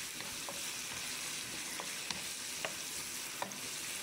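Garlic sizzles steadily in a hot pan for spicy pancit bihon, with a few sharp clinks of a utensil stirring against the pan over the continuous frying hiss.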